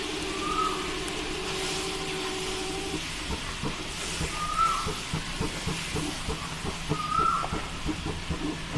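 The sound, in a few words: milk poured into pan and mixed for white sauce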